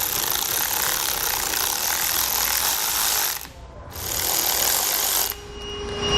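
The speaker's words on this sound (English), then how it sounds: "we'll loosen those up with the 14mm socket" A 14mm socket wrench ratchets steadily while loosening plastic nuts during a trailer hitch install on a 2017 Kia Niro, two long bursts of continuous clicking separated by a short pause.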